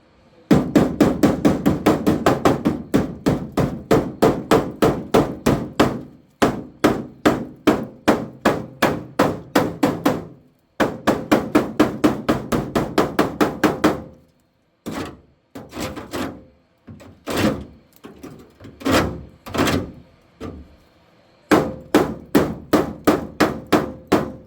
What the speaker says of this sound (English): grab your hammer, try to get rid of all of the big flaky chunks of rust.